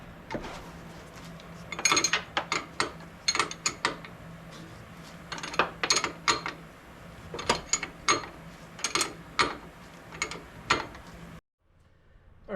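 A wrench ratchets tight the top nut of a Bilstein 5100 rear shock on a 2010 Toyota FJ Cruiser, with close, sharp clicking bursts in uneven runs over a steady low hum, then stopping near the end.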